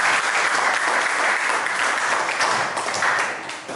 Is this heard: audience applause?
yes